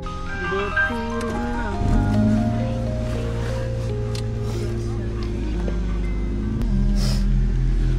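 Steady low road rumble inside a moving car after a fishing trip, with a sustained hum running throughout, loud and close, while people talk over it.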